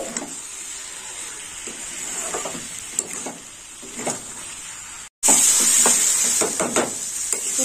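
Carrots and shrimp stir-frying in a pan with salt and sugar, a steady close sizzle with soft stirring scrapes throughout, growing louder and hissier after a brief break.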